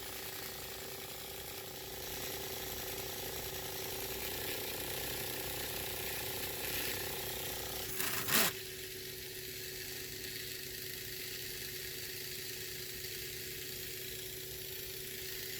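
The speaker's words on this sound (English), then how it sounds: "I have one pulse motor operating another pulse motor." A small 3D-printed pulse motor drives another pulse motor, giving a steady, fast mechanical whir and rattle with a constant hum and one brief sharp click partway through.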